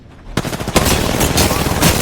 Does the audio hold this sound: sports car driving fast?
no